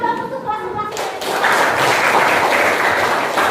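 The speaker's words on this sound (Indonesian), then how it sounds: "Tepuk tangan dong untuk kelas 11 IPS" Students in an Indonesian classroom clap for class 11, with a voice heard at first before loud, close clapping from the class starts and carries on to the end.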